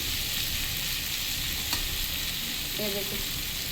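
Radish being sautéed and stirred in a pan for a Bengali moong dal with radish gives a steady, close sizzle, with a few light scrapes of the spatula partway through.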